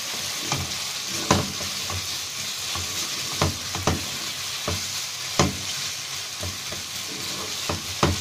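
Onions and minced garlic frying in a pan on a gas stove, a steady close sizzle broken by regular stirring scrapes and soft clunks of the spoon, with no voices.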